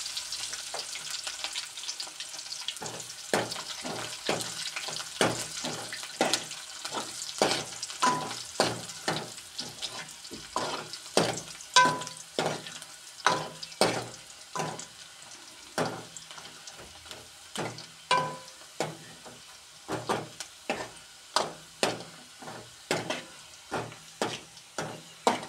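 Cumin seeds, onions and curry leaves fry in a pan for a tempering, with a constant sizzle broken by sharp, regular spatula taps and scrapes that grow louder and quicker toward the end.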